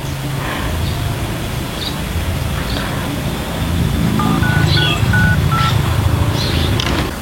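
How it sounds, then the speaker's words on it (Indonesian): A telephone dials out with a short run of beeping keypad tones. Steady heavy rain hisses throughout and drowns out much of it. "Udah deh, aku coba telepon dulu."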